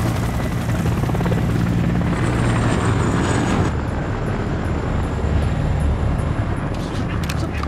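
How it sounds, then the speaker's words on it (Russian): A military helicopter in an action film thunders overhead with a heavy, continuous rotor roar, loud and close throughout, while a vehicle engine and tense voices sit underneath. "Да вертушка."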